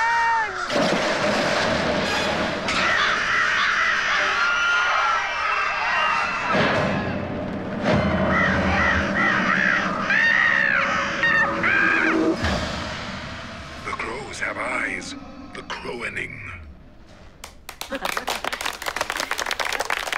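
A voice loudly imitates a flock of cawing birds during a comedy stage show, with harmonic caws and squawks layered over other voices and thumps, trailing off near the end before a burst of clapping.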